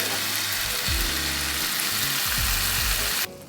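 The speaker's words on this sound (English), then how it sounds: "now that the fat of the pancetta is nice and rendered, we're gonna add about half a pouch of romesco to the pan" Romesco hits the rendered pancetta fat in a pan with a close, loud hiss and crackle that holds steady, a low droning hum running underneath, before the sizzle drops off sharply near the end.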